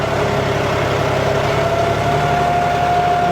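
A tractor pulling a cultivator through a field with its wheels slipping, on a 4x4 vs 4x2 comparison; a steady, loud, close diesel drone with a low rumble and no pauses.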